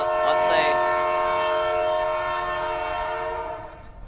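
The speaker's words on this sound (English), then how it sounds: "You gotta let the train horn play out" A loud, sustained train horn blares at a high school girls' lacrosse game after goals, a rich chord of tones holding steady before fading out over a few seconds.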